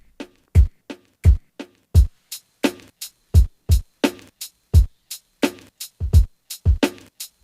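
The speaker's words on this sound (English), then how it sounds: "So what I first did is I created a simple drum pattern that sounds like this." A simple Ableton drum rack pattern of kick, snare and two hi-hats plays a steady, dry, looping beat with punchy evenly spaced hits, loud and alone.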